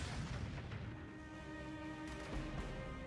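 Turret guns fire in the mech combat game Battletech Roguetech, a dense, continuous barrage of booming artillery-like blasts layered with rumbling explosions, loud and sustained with no pauses.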